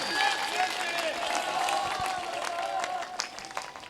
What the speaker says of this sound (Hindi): भाई अवनीश जी महर्षि, जोरदार ताली बजाकर स्वागत करें अवनीश जी।